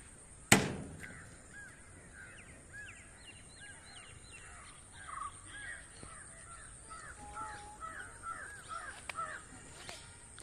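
A crow caws repeatedly at moderate distance, a series of short harsh calls spread over several seconds after a sharp knock at the start, over quiet outdoor background.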